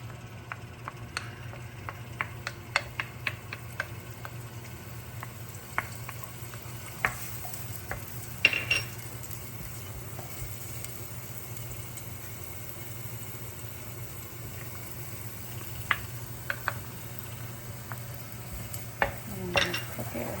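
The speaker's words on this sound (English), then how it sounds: "Then I'm going to add the shallots and the garlic." Shallots and garlic fry in oil for a Hong Kong style beef curry, a soft continuous sizzle under a low steady hum, with scattered light clicks and scrapes of stirring.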